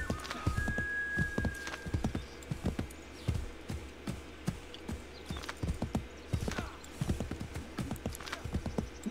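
Horse hooves clip-clop steadily through a forest in the video game Assassin's Creed III, a close, continuous trotting rhythm with no talking over it.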